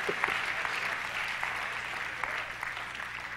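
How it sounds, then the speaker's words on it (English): A church congregation claps at a sermon on vision and discipline, a steady wash of applause heard across the whole moment at moderate distance, with no voices on top. "Clap."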